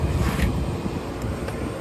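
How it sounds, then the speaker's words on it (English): The blower motor of a Rheem air conditioning unit runs steadily nearby, giving a continuous low rumbling whoosh of moving air with a faint hum and no pauses. "Motor's working"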